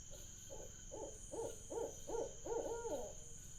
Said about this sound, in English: There's 3 owls and they're all calling to each other.